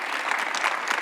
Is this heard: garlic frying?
no